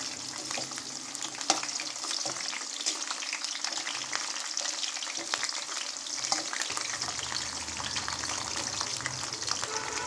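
Bitter gourd fries on a low flame in a pan with a steady, close sizzling hiss, stirred now and then with soft scraping strokes. No one speaks over the continuous frying.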